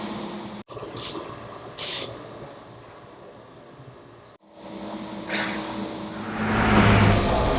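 Air hissing into a car tire during inflation, a steady close spray-like hiss broken by short pauses and a few sharper bursts, growing louder and fuller near the end.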